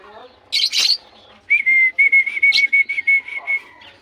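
Pet lovebirds whistling and chirping up close, with two sharp chirps followed by a long run of steady, repeated whistled notes.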